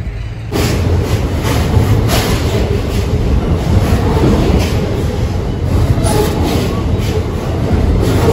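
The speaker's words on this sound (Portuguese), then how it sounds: "quando a cancela fecha é porque o trem tá vindo" Train rolling past close at a level crossing, a loud continuous rumble with rhythmic clickety-clack of wheels over rail joints and a steady high whine throughout.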